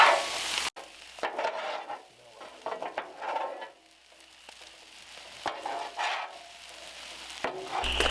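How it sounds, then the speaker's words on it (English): Fried rice with soy sauce is mixed on a Blackstone griddle, with a metal spatula scraping and tossing in irregular bursts over a faint sizzle, close and without talk. "We're going to mix this all together."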